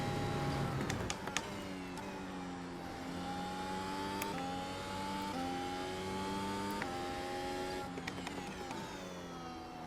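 A Mercedes W13 race car drifts in iRacing, its engine note holding strained, buzzing tones that climb and drop in steps across gear changes, with sharp clicks and ticks scattered over the steady whine.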